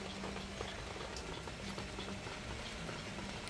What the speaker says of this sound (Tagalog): naririnig niyo guys, umuulan pa din